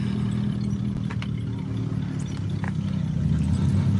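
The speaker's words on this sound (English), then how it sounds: "Oh, check out that car." A car rolls into a Cars & Coffee car show in Memphis, its engine giving a steady low rumble close by while a few faint clinks and knocks come and go.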